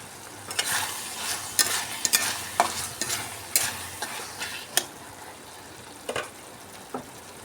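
Red lentils with onion frying in a pan, soft sizzling under a run of sharp spatula scrapes and clacks at an irregular rhythm, close and moderately loud, with no voices.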